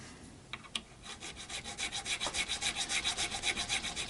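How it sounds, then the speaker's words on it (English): A triangle file rasps back and forth in the shallow nut slots of a Les Paul copy guitar, steady rhythmic strokes that start after a few light knocks, close and quiet, with no talking. "with the triangle file because they're quite shallow slots, so a head start with this file will be good"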